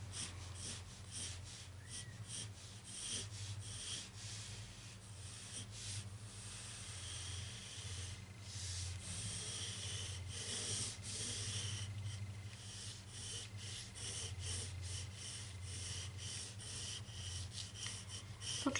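A pencil sketches Mikasa's hair on paper with light pressure, making a continuous soft rubbing and scratching with short strokes, close and quiet over a low background hum.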